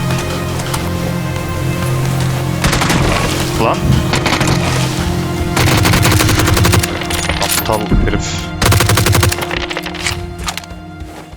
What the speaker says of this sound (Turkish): Termalle vurdum.